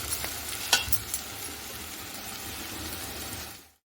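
Mutton masala and Malvani masala being mixed in a pot for mutton biryani: a close, steady sizzle with a few sharp scrapes early on, cutting off abruptly at the end.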